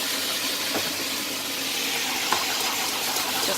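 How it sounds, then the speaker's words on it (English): Water poured from a kettle into a cooking pot, a steady close hiss and splash that runs evenly throughout with no talk over it. "I'm going to add a quarter cup of water, well, from a kettle"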